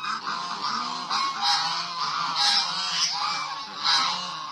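Geese honking on a farm during sorting of breeding stock, repeated harsh nasal honks from several birds overlapping continuously at close range.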